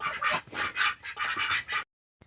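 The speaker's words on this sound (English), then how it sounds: "And there's the ducks." Ducks in their pen give a loud, close run of rapid nasal quacks, about eight in quick succession, then break off into silence before a brief last call.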